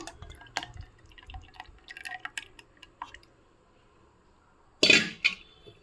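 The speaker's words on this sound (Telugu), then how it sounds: "మొత్తం మిక్సీకి వేసుకుందాము" Scattered small clinks and drips, then a brief, loud splashy gush as a milk and sugar mixture is poured into a mixer jar, followed by quiet.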